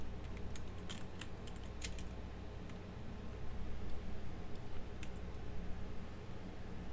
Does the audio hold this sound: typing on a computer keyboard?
yes